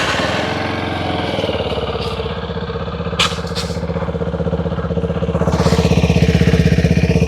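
A TVS Apache RTX 300 motorcycle engine idles steadily up close after a cold start, a low rhythmic putter that rises slightly in loudness toward the end.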